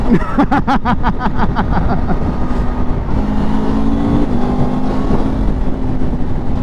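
An Aprilia Tuono V4 naked bike blips its throttle in a rapid series of sharp revs, then settles into a steady, close engine drone.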